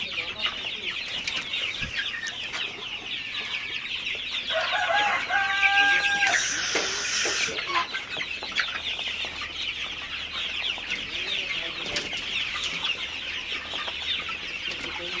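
A flock of Sonali super hybrid chickens clucks steadily on a farm at midday, with overlapping cackles and calls and one louder burst near the middle, heard close with no talking.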